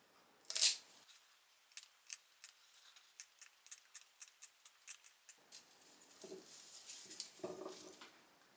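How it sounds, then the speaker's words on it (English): A steady series of crisp scissor snips trimming whisk broom fibers, about a dozen quick cuts in a regular rhythm, close and fairly quiet, followed by soft rustling handling sounds. "I can come back with my scissors and bevel some of the fibers on the edge"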